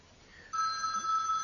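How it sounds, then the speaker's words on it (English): A telephone rings with an electronic ring that starts abruptly partway in and holds steady, moderately loud, with no talk over it. "And that would be my phone."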